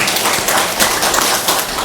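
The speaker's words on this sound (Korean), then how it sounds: "우리 격려의 박수 보내고" Congregation in a church service applauding together, a steady dense patter of many hands clapping at close range, encouraging a young member, with no voices over it.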